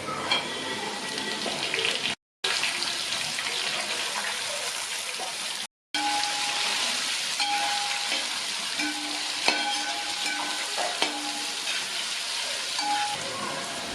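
Onion sliced into a pan with ginger and garlic for Kerala-style beef fry sizzles and crackles in hot oil, a dense continuous frying hiss broken by two short silent gaps and some stirring.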